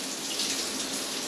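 Cold water runs steadily from taps into two side-by-side basins in a house with a plumbing leak, a continuous close hiss and splash with no talk.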